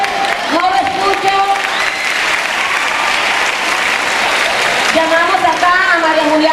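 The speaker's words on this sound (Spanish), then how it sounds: "pide desde ya un fuerte aplauso, que se escuche" Loud, steady applause from an audience at an educational television event fills the whole stretch, with a voice speaking over it at the start and again near the end.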